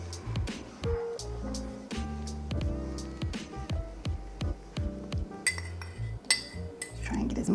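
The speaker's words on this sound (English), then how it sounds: "I'm going to add the butter and use a fork so that I can sort of get maybe like a pebbled sand texture for the crumble" A fork works butter into crumble mixture for vegan apple crumble muffins in a bowl, giving a quick run of close metallic clinks and scrapes against the bowl, ending in rougher rustling.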